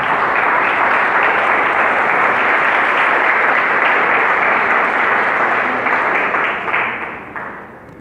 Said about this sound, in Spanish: Damos un aplauso al Señor por su palabra.